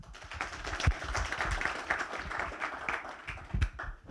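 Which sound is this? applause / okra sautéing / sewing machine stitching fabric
applause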